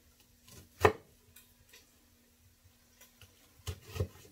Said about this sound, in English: you're cutting up through the onion, but not through the end